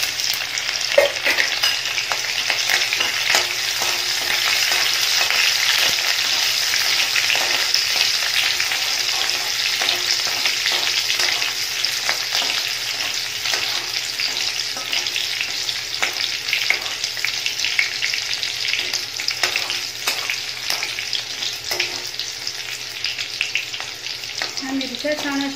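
Cumin seeds and green chillies fry in 3 to 4 spoons of hot oil in a kadhai, a steady, loud, crackling sizzle that holds throughout with scattered pops and no voices.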